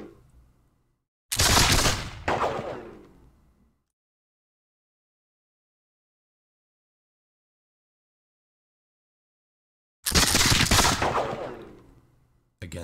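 Gunfire in the video game Campaign 1776 at the Battle of Cowpens: two loud, abrupt volleys of musket shots, each a few seconds long with a decaying tail, separated by silence.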